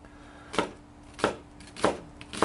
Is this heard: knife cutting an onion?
yes